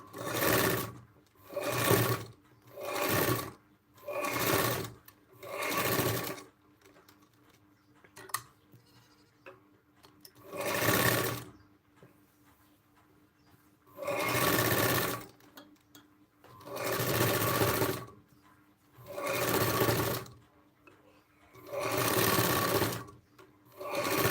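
A sewing machine runs in repeated bursts of about a second, with short quiet gaps between them, as it double-stitches a seam on a blouse. The whirring is close and clear, with no talk over it.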